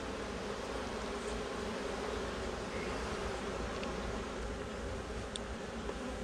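Honey bees buzzing around an open hive during an October check, a dense, continuous hum from many insects close by, fairly quiet and unbroken, with no talking.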